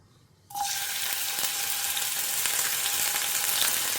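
Pirandai (adamant creeper) hits hot sesame oil with a sudden loud, steady sizzle of frying that begins after a brief quiet moment and continues evenly close by, with no talking.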